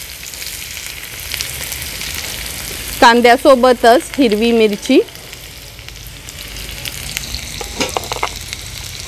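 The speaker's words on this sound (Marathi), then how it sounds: "आता फोडणीला कांदा घालूया।" Chopped onion tipped into hot oil in an iron pan on a wood-fired stove, a sizzle and frying crackle running throughout while someone speaks briefly in the middle.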